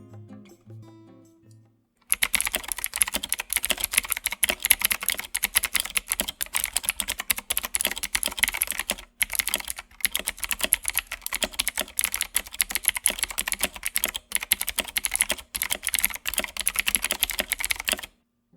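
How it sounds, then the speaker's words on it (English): Rapid clacky keystrokes on an Ajazz K620T mechanical keyboard with blue switches, crisp and close, typed in fast continuous bursts with a couple of brief pauses after a quiet start. "a sound test of what the board sounds like"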